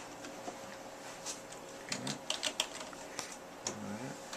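A computer keyboard taps out a complaint into an electronic medical record, scattered close keystrokes in short bursts while a voice murmurs briefly in the background.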